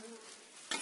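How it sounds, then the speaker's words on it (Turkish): Honeybees fly around a hive on a mild 15-degree winter day, a faint continuous buzzing drone with a brief louder swell near the end. "bugün bayağı bir arı uçuşu var"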